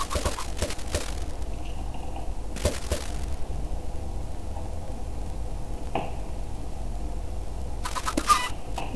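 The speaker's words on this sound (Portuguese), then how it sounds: "Quem é que acertou essa galinha?" Chickens in the game Sky Wars squawk and cluck as they are struck, a few brief calls spread across steady background game noise.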